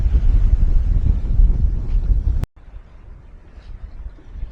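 A sailboat runs downwind at about 4.5 knots in roughly 16 knots of wind, with steady rushing wind and water noise that cuts off abruptly halfway through and returns much quieter.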